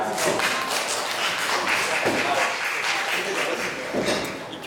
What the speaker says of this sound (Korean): 토론자들을 위해서 큰 박수 부탁드립니다